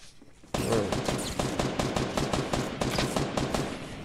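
Rapid automatic gunfire in the video game Fortnite bursts in after a quiet moment and hammers on in a loud, steady stream of close shots to the end.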